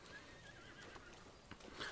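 A horse in the video game Breath of the Wild gives a short whinny under a faint, steady background wash.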